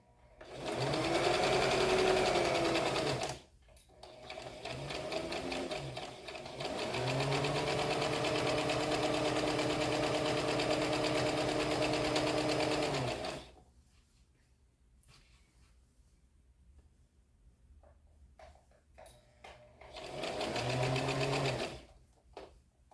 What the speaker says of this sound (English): I'm going to sew that part down